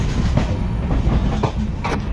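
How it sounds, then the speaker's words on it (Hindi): A passenger train rolls along the rails with a steady rumble and repeated clickety-clack beats from the wheels over the joints, heard from inside the carriage with no talking. "ट्रेन रो मजा"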